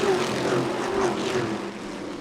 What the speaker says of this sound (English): Here we go, folks. Spec Racers on the half mile.